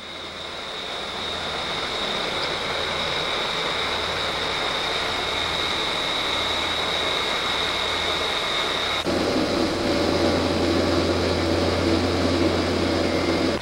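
Inside an airplane as engine number two is cut, a steady cabin drone with a high whine and low throbbing hum shifts abruptly about two-thirds through, the tone changing and the rumble growing slightly louder, with no talk.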